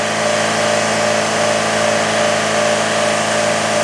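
A Chevrolet Equinox engine, diagnosed for intermittent power loss and no acceleration, is held at raised revs to bring it up to temperature. It gives a loud, steady, unbroken drone throughout.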